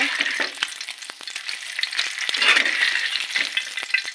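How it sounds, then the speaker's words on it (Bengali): Eggs fry in a pan on a gas stove, a close, steady sizzle broken by quick crackles and spits, continuous and fairly loud with no talking. "গরম গরম ডিম ভাজা"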